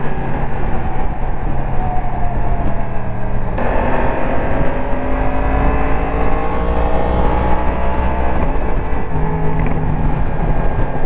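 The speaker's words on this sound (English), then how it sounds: "I love the way this bike sounds" A 2022 Yamaha MT-10 SP motorcycle engine runs loud and close, its rough, steady drone rising in pitch under revving and holding a strong, continuous tone throughout.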